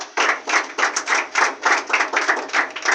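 A church congregation claps in a quick, steady rhythm during worship, loud sharp bursts repeating evenly for several seconds without spoken words.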